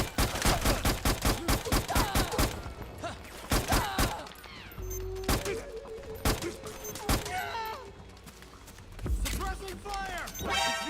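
Rapid bursts of suppressing gunfire from the video game Metal Gear Solid 4: Guns of the Patriots ring out loud and near, with dense volleys early on, then sparser shots under a tense game soundtrack.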